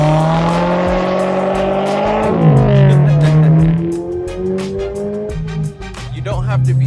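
Subaru BRZ fitted with an aftermarket exhaust, its engine revving hard and loud with rising and falling pitch sweeps, close up, accompanied by tyre squeal as it slides.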